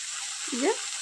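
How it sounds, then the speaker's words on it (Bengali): Onion and tomato frying in a pan, a soft steady sizzle with a brief stirring scrape near the middle, close and fairly quiet. "চলুন পেঁয়াজ টমেটোটা খুব ভালো করে ভেজে নিই"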